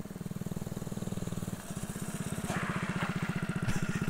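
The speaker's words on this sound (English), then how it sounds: "And he locked up the rear wheel." A small mini bike engine with a clutch brake chugs in a steady pulsing rhythm while running, then a rougher scraping stretch follows as the bike brakes hard and the rear wheel locks and skids; no voices.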